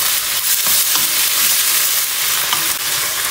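Tomatoes cooking down in a pan for a Punjabi chicken gravy, giving a loud, dense, continuous sizzle with faint stirring scrapes throughout and no voices.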